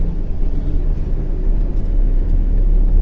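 A car driving, with a steady low engine rumble and road noise heard from inside, loud and continuous throughout with no talking.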